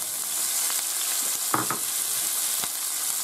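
Leek and spring onion sauté in hot oil in a pan, giving a steady soft sizzle with a few brief scraping stirs of a utensil partway through, close and without talk.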